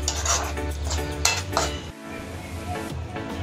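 Garam masala and cumin powder are stirred into a Malvani-style prawn masala, with a spoon scraping and clinking against the pot in close, busy strokes over a faint sizzle, and no one talking.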